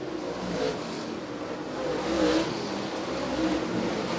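Late model race cars battling side by side at Merritt Speedway, a continuous engine roar with swells as cars pass, moderately loud and without talk.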